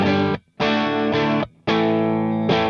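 Electric guitar played through a Joyo Jackman amp, tone knob eased down slightly from full, four strummed chords in two pairs, each ringing loudly with short silent breaks between.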